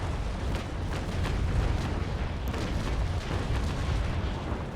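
Cannon fire from a sailing warship in the Naval Action video game, a run of booming cannon shots rolling over a constant rumble of wind and sea.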